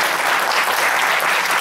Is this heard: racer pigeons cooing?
no